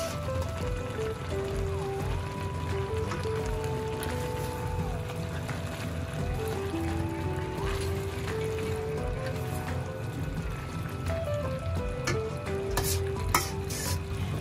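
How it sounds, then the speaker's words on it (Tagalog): Beef pieces dropped into a hot pan for callos sizzle and fry steadily while being stirred, a continuous close crackle with occasional scraping and no talk. "Ngayon po, ihuhulog ko po yung baka."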